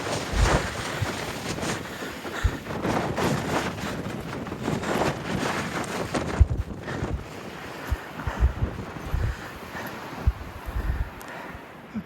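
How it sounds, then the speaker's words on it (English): Gusty wind on an exposed hiking trail near a mountain summit, roaring steadily and buffeting the microphone, with a few sharp thumps and brief lulls over the whole stretch. "It's getting windy here as we get closer to the top."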